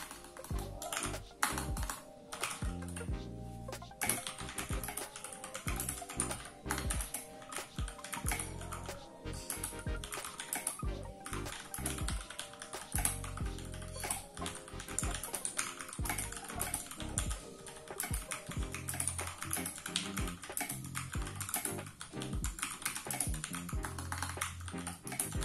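Fast continuous typing on a VX5 60% mechanical keyboard, dense clacky keystrokes in quick irregular bursts with occasional heavier thocks, recorded close and quiet with no talking.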